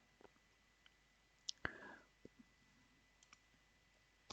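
A single computer mouse click on an upload icon, faint and dry, followed by a few tiny scattered ticks in an otherwise quiet room.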